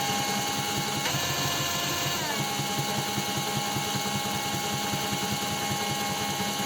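DRIVAK ED002 cordless drill running steadily at second speed, a continuous whirring motor hum with a steady pitch close by and no talk over it.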